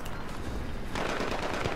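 An L85A2 rifle fires in Battlefield 3, a rapid automatic burst of shots running continuously and loud, growing denser and sharper partway through.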